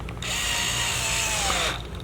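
A power drill backing screws out of a Yamaha digital piano, one steady whirring run of about a second and a half, close and fairly loud with a falling pitch as it spins down.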